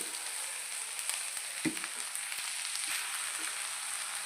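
Curry leaves fry in hot oil on medium heat for egg fried rice, a steady faint hiss of sizzling with a few light stirring taps, close by and with no voices.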